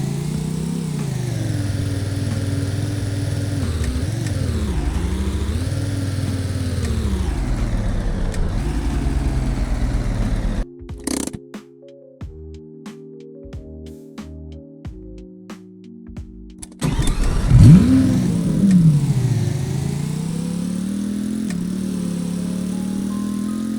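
Nemesis 16 car in the Roblox game A Dusty Trip revving and accelerating, a loud rising engine drone that drops away briefly midway, then surges back and climbs again.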